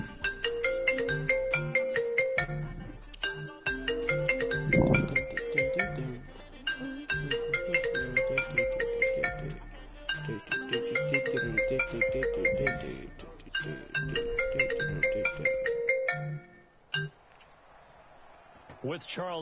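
During a live Madden 20 Ultimate Team stream, a phone ringtone plays a repeating melodic tune over about sixteen seconds, loud and close, with someone talking over it at times before it cuts off.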